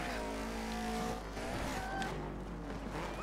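A rally car in the racing video game Dirt 3 drones steadily at a fairly low level, its engine note rising and falling, with brief tire skids partway through.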